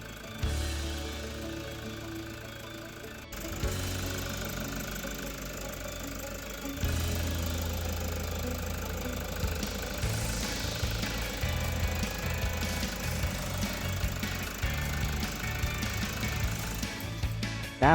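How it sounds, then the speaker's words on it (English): A car engine idles after an oil change, a steady hum throughout with a continuous low rumble and some clattering texture, fairly constant in level, no voices. "Run the engine for 10 minutes to complete the oil circulation inside the engine."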